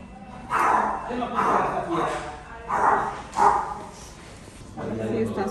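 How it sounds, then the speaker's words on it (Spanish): A small dog at a vet clinic yips and barks in a run of close, loud bursts, with people talking around it. "Ay, es el perrito."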